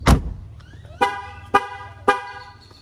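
A Jeep chirps as its doors are locked: a door thud, then three sharp electronic horn beeps evenly spaced about half a second apart, close and clear.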